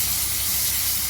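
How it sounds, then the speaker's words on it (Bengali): Ginger-garlic paste fries in hot oil for mung dal cooked with chicken, producing a brief, dense, even hiss that sounds like steady spattering sizzle, with no speech. "আদা রসুন বাটা দিয়ে কিছুক্ষণ ভেজে নিয়েছি।"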